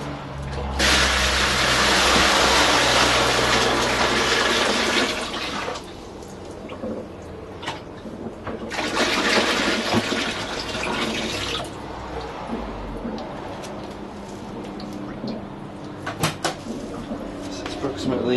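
Water gushing into a brewing vessel for an all-grain mash, two loud sustained bursts of pouring separated by quieter moments, with clatter and some speech in between.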